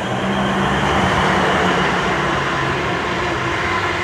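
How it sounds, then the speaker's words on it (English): A South Western Railway Class 444 unit, 444012, on a Weymouth to London Waterloo service passes Eastleigh with a loud, continuous, close rumble of wheels and motors. There is no talking. "Southwest train service from Weymouth to London Waterloo"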